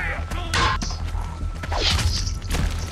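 Heavy whacks and thuds of impacts in The Walking Dead video game, several blunt hits with whooshing swings over a short, busy stretch, loud and close, with brief voices between them.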